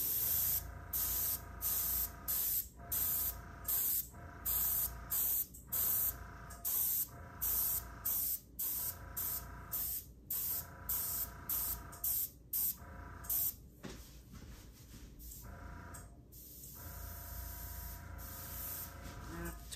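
An air compressor set to about 35 PSI blows bursts of air across fluid acrylic paint for a UV-reactive Dutch pour air swipe, a loud hissing spray in repeated short blasts separated by brief gaps, then a steadier continuous stream.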